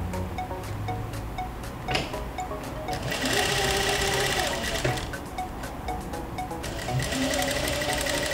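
A sewing machine stitches the triangle seams of a patchwork quilt block, running in a fast rhythmic needle chatter, with short stops and restarts and a louder sustained run midway.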